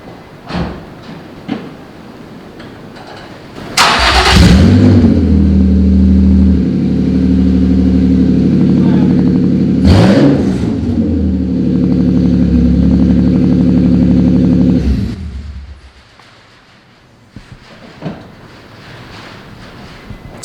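Nissan 350Z with a straight-pipe exhaust and no muffler, revved hard: a sudden loud blip rises into a sustained, raspy roar that peaks again midway, then drops back to a low idle.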